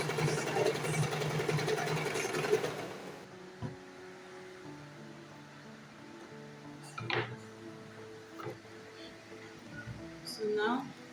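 A sewing machine stitching turban fabric runs in a dense, fast whirr for a few seconds before stopping, followed by quieter handling clicks and rustles with a person speaking.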